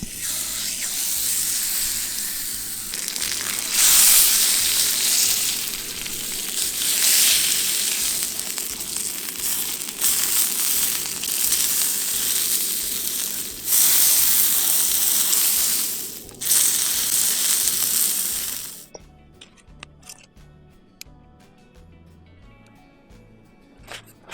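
A steak sizzles steadily in a pan at a solo campsite, a loud continuous frying hiss with crackling swells that cuts off abruptly near the end, leaving quiet outdoor ambience.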